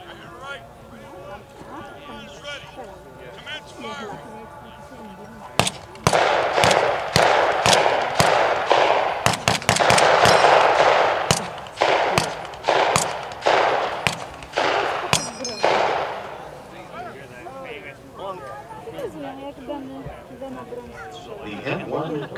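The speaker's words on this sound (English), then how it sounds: "Stand by for the M1 Garand." An M1 Garand rifle fires a rapid string of loud, sharp shots at a USMC WWII weapons demonstration at an outdoor beach airshow event, about a dozen cracks over several seconds, with announcer talk before and after.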